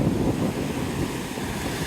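Ocean waves splash and wash against a sand cliff on a beach, a steady, loud rushing surf with wind buffeting the microphone throughout and no talk.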